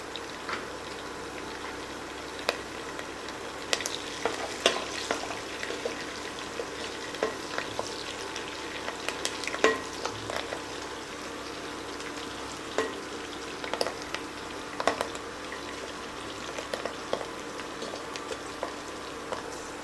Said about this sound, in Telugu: ఈ ఉల్లిపాయలు మనకు బాగా వేగనిద్దాము. ఇందులో ఇప్పుడు మనం కొంచెం కరివేపాకు వేసుకుందాం.